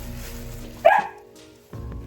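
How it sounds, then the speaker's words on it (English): A household dog barks once, sharp and close, at a small bee figurine that fell out of a box, then a short quiet stretch before low background sound resumes. "My dog was barking at this"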